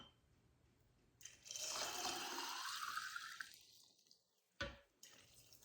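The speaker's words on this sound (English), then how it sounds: "all you're going to do is fill your jars. I use warm water" Warm water pours into canning jars during pressure canning of beans, a steady splashing fill lasting a few seconds, close by, then tapering off with a brief final splash.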